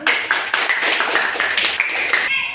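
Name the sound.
audience clapping hands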